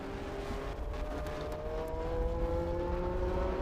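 Porsche race car in Golf livery passing on the Road America circuit, a steady engine drone with rising pitch as it runs past at moderate distance, with no talk.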